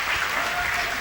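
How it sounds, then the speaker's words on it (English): Brief burst of audience applause at a Google student ambassador event, a continuous dense patter of many hands, fairly loud and even across the whole moment. "Can we give them a round of applause"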